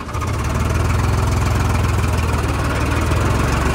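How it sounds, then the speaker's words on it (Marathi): A Farmtrac 60 tractor engine idles close by, steady and loud, with a low, even rumble and faint rhythmic knocking, no voices. "ट्रॅक्टर उभा आहे 0वरती आता"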